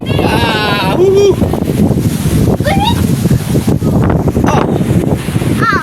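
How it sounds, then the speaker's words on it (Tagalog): Big ocean waves surge and roar continuously around a boat, mixed with heavy wind buffeting the microphone, while people shout and exclaim loudly over the rush of water. "laki sa ng alon. laki ng alon."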